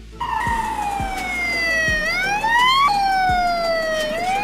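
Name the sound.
Ukrainian police car siren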